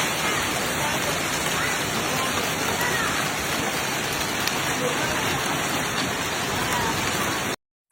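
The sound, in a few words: heavy rain in Wuhan storm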